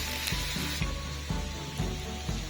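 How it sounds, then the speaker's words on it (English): Tomatoes cooking in a pan for matumbo, a soft continuous sizzle broken by faint regular scraping taps as the mixture is stirred. "I'm going to let this cook until the tomatoes are soft and are mixed properly."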